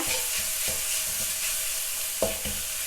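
Minced pork stir-fries over medium heat in a pan for a holy basil and long bean dish, a constant loud sizzle broken by repeated spatula scrapes and knocks, close up with no speech.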